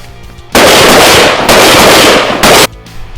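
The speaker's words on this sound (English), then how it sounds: "between me and Jared, so now we're just out here shooting around" Guns fired at an outdoor shooting range, heard as loud, sustained broadband blasts of rapid fire in two long bursts with a brief gap between them, no voices present.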